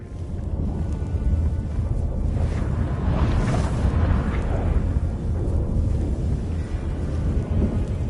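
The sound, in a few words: thunderstorm in the video game Witcher 3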